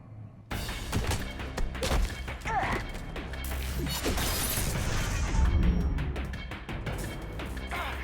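Gunfire in Mass Effect 3 erupting abruptly and running on as a dense clatter of shots and impacts, loud and continuous with game voices and music beneath.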